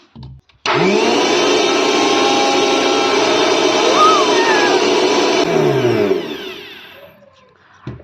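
A mixer grinder starts abruptly and runs at a steady loud whine, grinding dhuska batter, holding for about five seconds before winding down with a falling tone and fading out.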